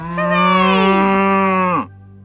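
A cow gives one long, loud, close moo that holds steady and then drops off sharply, leaving near silence. No one talks.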